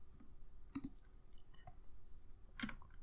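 Computer mouse clicks during 3D modelling in Maya, a few quiet close clicks, including a quick double click, spaced over a soft background.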